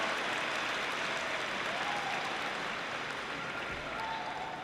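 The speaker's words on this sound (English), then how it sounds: "Please join me in applauding their dedicated efforts." An audience at a community college commencement ceremony applauds in a continuous, even wash of clapping that holds steady for several seconds, filling a large hall.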